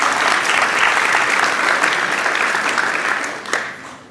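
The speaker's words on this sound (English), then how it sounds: "These guys appreciate your applause." An audience at an evening Thanksgiving event claps loudly and steadily, a dense wash of applause that holds for several seconds before beginning to thin out.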